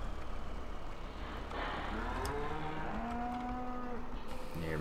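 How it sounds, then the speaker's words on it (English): Cattle moo in a Farming Simulator 2013 farm scene, drawn-out calls rising and falling over a steady engine-like hum from vehicles, with no one talking. "Gonna start hearing cows in a second here."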